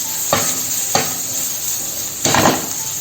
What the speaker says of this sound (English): when the mushroom becomes soft, we are going to add here thyme leaves and mix all together